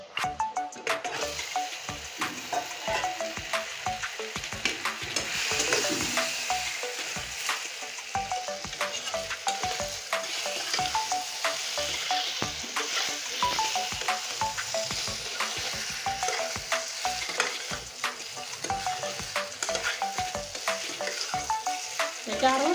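Boiled gathi kochu (taro) sizzles and fries in a spice paste for a fish-head curry, with a steady crackle and repeated stirring scrapes throughout, close and fairly loud with no talk.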